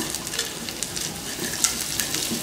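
Black pepper and cumin seeds sizzle in hot oil in a pan, a steady close crackling hiss with scattered sharp pops throughout.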